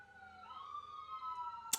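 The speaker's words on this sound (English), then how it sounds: "there go the sirens" A faint, distant siren wails with a slow rising and falling tone held across the moment, alone with no talk, ending in a short click.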